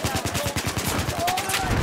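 Rapid automatic gunfire from the video game Battlefield 4 rattles continuously in a dense, loud burst of repeated shots.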